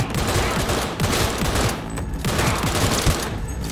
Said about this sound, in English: Oh, this is like a burst weapon.